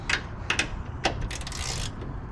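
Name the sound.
ratchet with 10mm deep socket tightening strut brace bolts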